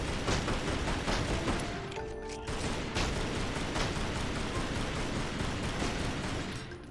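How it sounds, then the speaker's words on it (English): Gunshots in Tomb Raider: Anniversary, fired at wooden boxes in a dense, rapid volley, with a short pause midway before the firing resumes. "So I am gonna just shoot the boxes to get rid of them."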